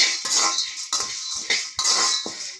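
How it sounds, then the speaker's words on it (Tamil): Chana dal (split chickpeas) dry-roasting in a pan, heard as a spatula scraping and clinking against the metal in several sharp, evenly spaced strokes, close and fairly clear. "இப்போ வந்து கடலைப்பருப்பு வறுத்துடலாம்"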